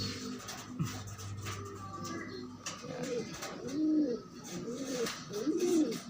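Pigeons, blue check and black check white flag birds, cooing in a repeated rising-falling series, fairly close, with a low background hum and faint rustling.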